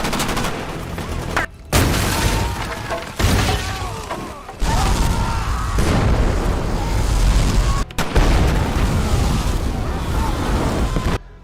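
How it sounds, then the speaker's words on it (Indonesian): Explosions and gunfire from the 2007 action film Shooter, loud dense blasts and rumbling debris in several cut segments, with brief breaks between shots and some voices mixed in. "Dengan mudahnya, mereka menghabisi pasukan setelah menginstruksi Nick untuk meledakkan bom yang telah mereka"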